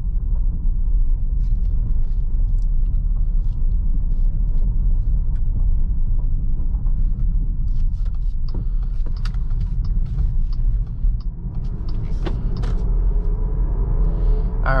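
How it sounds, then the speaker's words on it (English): A 2022 Jeep Grand Cherokee pulls away and drives, with a steady low engine and road rumble heard from inside the cabin and a few light clicks and knocks over the continuous drone. "gonna put it in drive here and we will set off"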